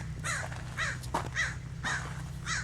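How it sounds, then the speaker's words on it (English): Crows caw in a slow series of harsh calls, several distinct caws at moderate distance over a low background hum. "we hear a few crows and birds here"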